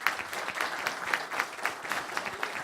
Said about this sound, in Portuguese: Queria que vocês aplaudissem essa equipe que está aí.